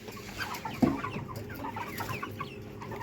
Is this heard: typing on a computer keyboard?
no